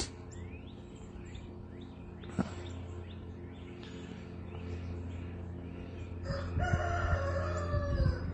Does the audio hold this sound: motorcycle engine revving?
no